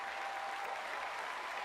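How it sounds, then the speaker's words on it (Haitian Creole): Brief burst of steady applause from a church audience, many hands clapping together in a dense, uniform roar. "Il mérite un applaudissement."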